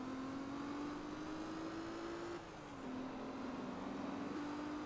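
A Lancia Stratos with a performance upgrade in Forza Motorsport 2 drones with a steady engine tone that climbs slowly, dips briefly, then holds again, heard fairly quietly and without talk.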